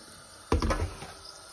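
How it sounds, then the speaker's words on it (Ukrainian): Tap water gushes suddenly as raw capelin are rinsed under a kitchen faucet, a short close splash and rush that quickly fades into a low background hiss. "Беремо такі, не чистимо нічого, але гарненько треба помити. Миємо рибку."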